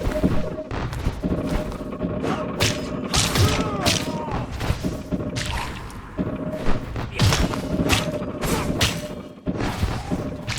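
Cannons booming in the action game Legacy of Kain: Ascendance, with repeated loud thumps and blasts spread across a dense, busy game soundtrack full of clanking mechanisms.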